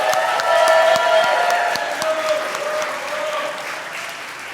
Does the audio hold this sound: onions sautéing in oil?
no